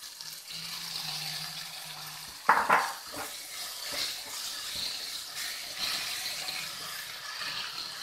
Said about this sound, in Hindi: अब मैं इसमें अपनी मटर डालूंगी।